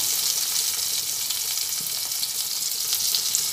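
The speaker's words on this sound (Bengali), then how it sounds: "আদাও এর মধ্যে দিয়ে দিলাম। একই সঙ্গে সব ভেজে নিচ্ছি।" Ginger sizzles in a pan alongside pointed gourd and tomato, a steady close crackling fry with faint stirring, no voices.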